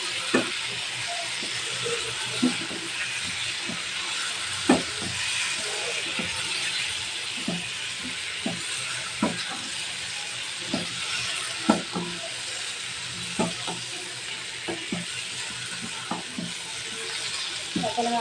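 Chicken pieces fry in a hot pan with a steady bright sizzle, punctuated by regular clicks and scrapes of stirring throughout.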